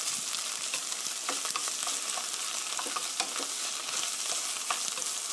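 Vegetable spaghetti sauce being stir-fried in a pan with two slices of cheese melting in, a steady bright sizzle with scattered scrapes and clicks of the utensil, close and continuous without any talk.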